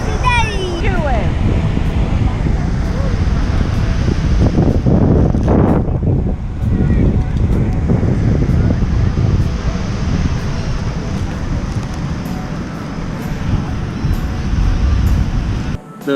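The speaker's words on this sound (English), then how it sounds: "The waves were really choppy that day" Choppy ocean surf and gusting wind on an Australian beach, a steady loud broadband roar filling the whole stretch, with wind buffeting the microphone throughout and no clear voices.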